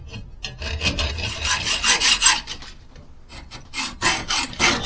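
A hand hacksaw works through material in bursts of harsh, rasping back-and-forth strokes, fairly close and loud, with brief pauses between bouts of cutting and no talking.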